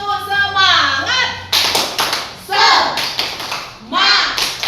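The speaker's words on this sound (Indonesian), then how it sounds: "Oke, ulangnya tepuk semangat." A classroom of standing children clap a rhythmic spirit clap in quick bursts of hand claps mixed with young voices chanting, with a teacher's voice between the claps.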